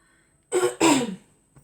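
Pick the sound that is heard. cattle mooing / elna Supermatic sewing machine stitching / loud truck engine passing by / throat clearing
throat clearing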